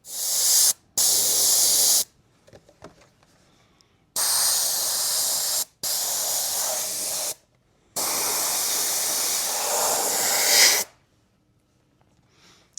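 Five long hissing bursts of an aerosol spray paint can, close and loud, separated by short pauses.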